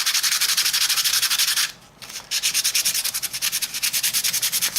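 Close-up sanding with sandpaper on a model railroad layout part, a fast rhythmic rasp of repeated strokes that briefly pauses near the middle and then resumes.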